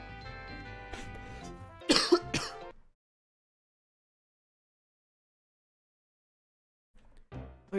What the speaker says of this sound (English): I'm gonna be so glad when this cough is gone.